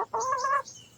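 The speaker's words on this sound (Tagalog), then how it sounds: "tawag ng manok yan" A chicken on a farm gives a short, close cluck, a single bright two-part call lasting well under a second over a quiet background.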